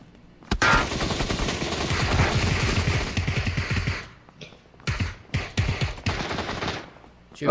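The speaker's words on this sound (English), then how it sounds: "I'm gonna pop out with a fully auto SMG and just kinda go blah blah blah." Fully automatic SMG fire in PUBG, a long sustained burst of rapid shots at close range followed by several shorter bursts after a brief pause.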